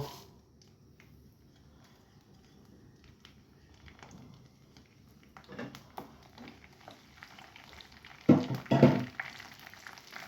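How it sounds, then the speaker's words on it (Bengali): Panch phoron and dried red chillies hit hot oil for garlic pickle: faint, sparse crackling under quiet room noise, then a louder burst of sizzling and spattering near the end. "তেল গরম হয়ে গেছে এখন পাঁচ পুরন ও শুকনা মরিচ দিয়ে দিব"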